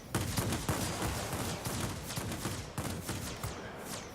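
Rapid, continuous machine-gun fire from a J7W2 warplane in World of Warplanes, a dense rattling stream of shots sustained loud and close throughout.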